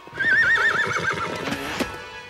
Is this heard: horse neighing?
yes